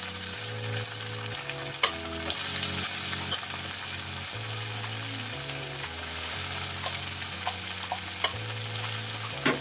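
Bitter gourd (ucche) frying with onions in a pan for a Bengali home-cooked meal, giving a steady, close sizzle with occasional stirring scrapes and small clicks throughout.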